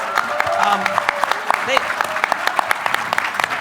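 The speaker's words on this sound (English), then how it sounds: "Let's give them a round of applause" An audience at a gala claps together, a dense crackle of many hands with a few louder bursts, while a voice carries on over the applause.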